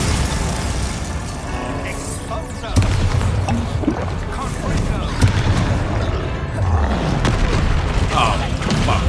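Booming spell blasts from the Bombarda explosion spell in Hogwarts Legacy, heavy low bursts going off amid constant battle noise and mechanical rumble, with someone talking over the fight.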